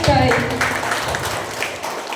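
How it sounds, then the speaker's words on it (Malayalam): An audience applauds magic show performers at a birthday celebration, a steady, fairly loud patter of clapping that follows a brief voice at the start. "ഈ അംഗങ്ങൾക്ക് നല്ലൊരു കയ്യടി കൊടുക്കാം"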